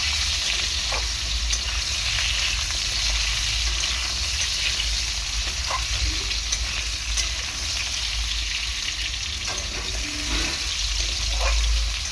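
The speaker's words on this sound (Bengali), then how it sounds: "জিরে ফোড়নটা একটুখানি ভেজে নেওয়ার পর এই যে আলুটা কেটে রেখেছি আমি আলুটা দিয়ে দেবো" Potatoes frying in a kadai of cumin-tempered oil, producing a steady, close, loud sizzle with occasional light clicks of stirring.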